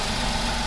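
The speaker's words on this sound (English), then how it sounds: "Now this is how the engine sounds." Tata Tigor engine idling after an upgrade to NGK LKR6D-10E spark plugs, a steady continuous hum with low rumble and even vibration, close and alone throughout.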